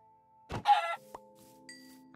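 A Minecraft chicken gives one short, close cluck over a quiet tonal background, followed by a couple of faint clicks.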